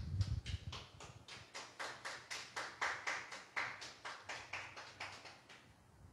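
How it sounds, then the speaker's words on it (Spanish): A church congregation claps in a steady, even rhythm, with around eighteen crisp claps in a row at moderate volume and no voices over them. "Dale un aplauso al Señor Jesús"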